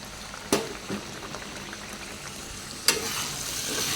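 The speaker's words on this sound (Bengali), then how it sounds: "আর এখানে মাছের তেল ঝালটা হচ্ছে সরষে বাটা দিয়ে, জ্যান্ত মাছ।" Fresh fish simmering in oil with mustard paste, a soft bubbling sizzle with two sharp clinks of a utensil, fairly quiet and close, no one speaking.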